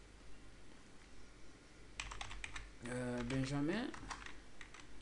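Quick clattering keystrokes on a computer keyboard, a short burst followed by a denser run of taps, faint and close over a low hum while someone speaks briefly.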